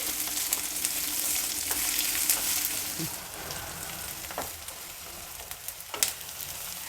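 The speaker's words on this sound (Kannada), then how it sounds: "ಈರುಳ್ಳಿ ಎಲ್ಲ ಚೆನ್ನಾಗಿ ಫ್ರೈ ಆಗಿದೆ" Continuous loud sizzle of onions frying in a pan, with occasional louder crackles and spatters breaking through the steady hiss.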